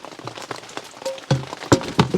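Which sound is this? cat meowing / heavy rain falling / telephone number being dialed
heavy rain falling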